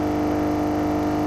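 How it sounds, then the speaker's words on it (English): A strained, droning vehicle engine with a possible failing head gasket in a video game, a steady close hum with a rough pulsing undertone, loud and unbroken. "That's not a good engine noise."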